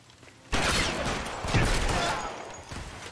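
Shotgun gunfire in the video game LA Noire, a sudden loud blast followed by a second heavy burst and fading clatter, with a voice murmuring underneath.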